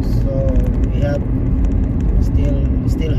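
A car drives along a street in Saudi Arabia on an evening during lockdown, its steady road noise loud and close throughout, with faint talk over the top.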